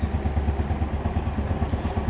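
A Honda Biz 125 motorcycle engine idles just after starting from cold, a steady low putter with even rhythmic pulses and light mechanical clatter, close and alone.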